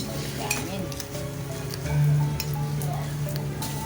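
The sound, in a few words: crackers (kerupuk) frying in oil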